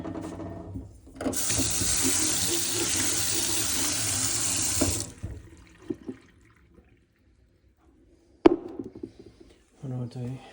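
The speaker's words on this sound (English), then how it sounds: "Open the clean water tank and fill with clean water." Clean water pours from a tap into the tank of a Narwal Flow2 robot mop, a steady rushing stream lasting about four seconds, then stops, followed by a few light knocks and clicks as the tank is handled, with a voice speaking briefly.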